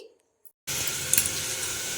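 Spiny gourd and potatoes frying in a pan burst into a loud, steady sizzle after a brief quiet moment, with a short spatter spike partway through.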